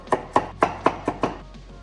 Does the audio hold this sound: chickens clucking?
no